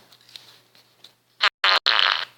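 A fart noise plays as three loud, raspy bursts in quick succession, cut by brief silences, following a stretch of faint scattered sounds.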